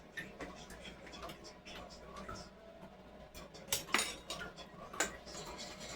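A utensil clinks and scrapes against a pot while milk is stirred on the stove, with irregular metallic taps and louder knocks near the end over a low background hum, and a voice speaks partway through.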